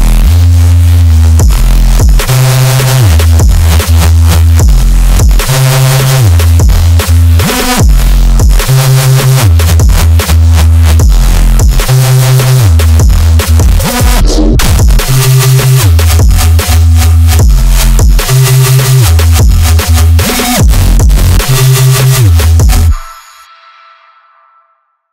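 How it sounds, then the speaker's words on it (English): A powerful Reese bass patch made in Serum for drum and bass or dubstep drops pounds through a dense, loud mix, its detuned low notes shifting in a steady pattern for over twenty seconds before cutting off sharply. "how to make a really powerful Reese bass for your drops, mainly drum and bass or even dubstep drops"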